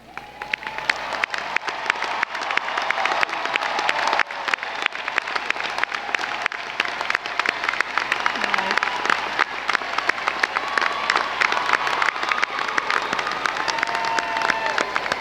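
Sustained applause from a commencement audience honoring students wearing honors cords at a college graduation ceremony, steady crowd clapping in a large hall for around fifteen seconds with light cheering mixed in.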